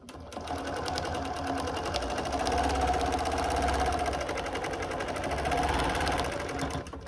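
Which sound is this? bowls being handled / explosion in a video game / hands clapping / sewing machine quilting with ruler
sewing machine quilting with ruler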